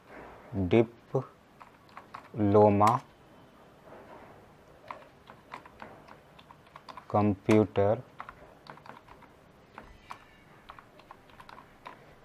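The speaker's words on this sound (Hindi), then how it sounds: "मैं यहाँ पर इसको इस तरह से टाइप कर दे रहा हूँ" Keys tapped on a computer keyboard while a document is typed, the clicks light and intermittent, mostly masked by someone speaking almost throughout.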